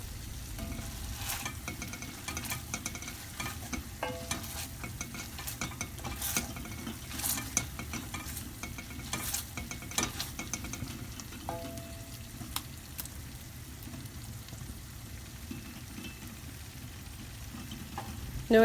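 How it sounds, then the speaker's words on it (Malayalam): Tomato, onion and spice masala being mashed in a pan with a potato masher for egg Mughlai street food, a steady low sizzle with repeated soft squelching presses and occasional metal taps throughout. "ഇനി ഈ ഒരു പൊട്ടാറ്റോ മാഷർ കൊണ്ട് എല്ലാം നന്നായിട്ടൊന്ന് മാഷ് ചെയ്ത് കൊടുക്കണം"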